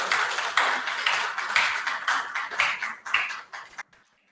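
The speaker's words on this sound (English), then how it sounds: "Please give a big applause for the winner." Audience applause at an international conference on vocational education and technology, a dense burst of clapping from many hands that swells in waves and then stops abruptly.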